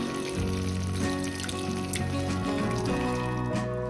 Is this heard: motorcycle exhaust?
no